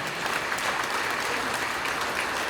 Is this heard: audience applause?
yes